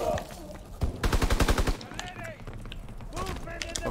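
Rapid automatic gunfire from a WW2 shooter game, a tight burst of about a dozen loud shots followed by scattered weapon clatter and effects, with game voices underneath.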